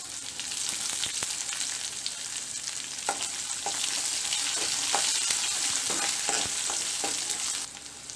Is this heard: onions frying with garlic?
yes